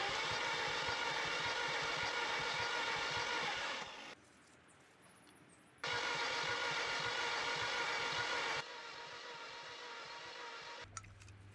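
Mini Cooper S engine cranking on the starter during a compression test, a steady, even churning whir in two long bursts with a quiet pause between them and a softer hum afterward.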